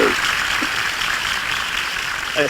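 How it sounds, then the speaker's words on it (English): A studio audience gives a sustained round of applause, with a hiss of many hands clapping steadily and brief voice fragments poking through. "How about a round of applause for that?"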